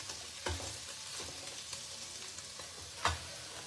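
Paneer cubes frying in a pan, a steady soft sizzle running throughout with a few brief louder stirring scrapes, close by and without speech.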